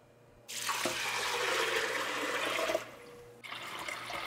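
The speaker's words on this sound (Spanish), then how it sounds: "Y ya de un solo le vamos a agregar agua." Tap water runs steadily into a cooking pot meant for boiling barley, a loud continuous gush of splashing water that stops near the end before a quieter flow resumes.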